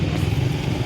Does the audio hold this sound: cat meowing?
no